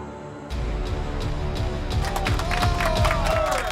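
An audience claps and cheers at a live sports-betting talk show, a steady, dense wash of applause and whoops that starts abruptly and holds at a fairly loud level throughout.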